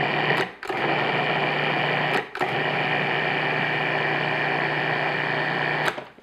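A food processor pulses flour and butter for mincemeat tart pastry dough. The motor whines steadily for long stretches, broken by two or three brief stops, close and even in level.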